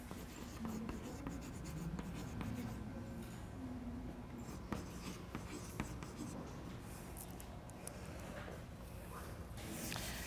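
Steady scratchy writing, likely chalk or marker on a board, during a general chemistry lecture, continuing close by for the whole stretch with faint room noise and a hint of a voice underneath.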